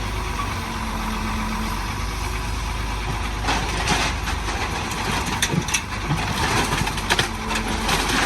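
Heavy machinery carrying a giant bucket: a continuous low diesel rumble at moderate distance, with scraping and clanking bursts in the second half as the load moves.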